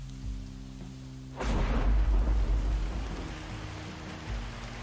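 A thunder crack in a thunderstorm in the video game Bear & Breakfast: steady rain hiss, then a sudden loud boom that rolls and rumbles for a few seconds before easing back into the rain.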